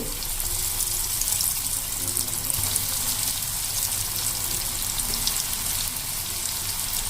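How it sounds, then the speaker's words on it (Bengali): Paneer cheese fingers frying in hot oil, a dense, loud, even sizzling hiss that persists unbroken for several seconds, close up and with no voices. "এবার এটা ভাজার জন্য এই যে এরকম এই ফিঙ্গারগুলো, আমি পনিরের ফিঙ্গারগুলো আমরা এভাবে তেলের মধ্যে দিয়ে দেবো।"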